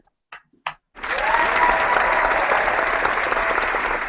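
An applause sound effect played during a live online hangout: a brief pause with a couple of clicks, then a dense, loud burst of crowd clapping that stays steady to the end.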